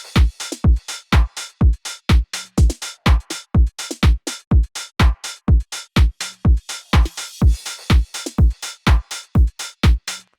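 A tech house beat with a crash cymbal and a sweep-up effect, driven by punchy, short-tailed kicks in a steady four-on-the-floor pulse with bright percussion between hits, loud and uninterrupted throughout.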